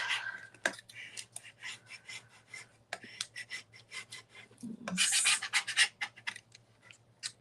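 A small scraper rubs and rasps against a sheet of material to push out a bubble, making close, irregular scratchy strokes with a louder rough burst near the end.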